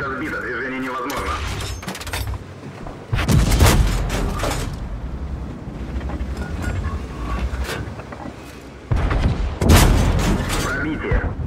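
Tank cannon fire and shell hits in the Object 244 tank game on the Tundra map, two heavy booming blasts with sharp cracks over a rumbling engine bed and wind, with a voice speaking in between.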